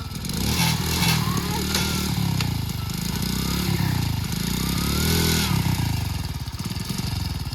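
A modified, stripped-down motorcycle rebuilt in a rocky bike style runs in gear, its engine chugging loudly and steadily up close with rapid rhythmic exhaust pulses and slight rises and dips in pace.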